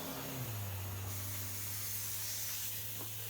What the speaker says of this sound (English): I'll go with some PB Blaster. Kind of lubricate everything.